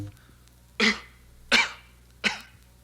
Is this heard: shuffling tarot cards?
no